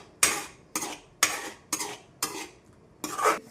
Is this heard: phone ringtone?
no